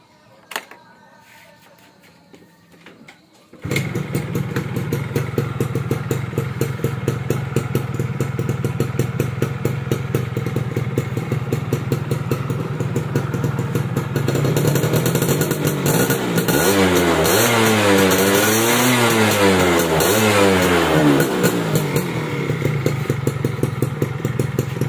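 A restored Yamaha F1Z R motorcycle engine with a somewhat rough-running motor starts after a moment of quiet and idles with a loud, steady chatter, then revs up and down repeatedly, close to the mic.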